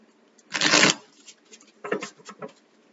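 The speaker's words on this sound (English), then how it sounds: "one more good shuffle" A deck of tarot cards riffled in one loud close burst, followed by softer taps and shuffling clicks as the cards are squared.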